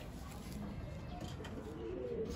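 Racing pigeon cooing inside a loft, soft low coos under steady background noise throughout, with no talk.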